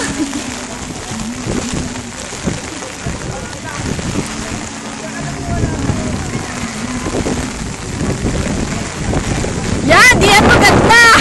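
Rain falls steadily while someone films outdoors, a constant hiss with wind buffeting the microphone and a louder burst of noise near the end.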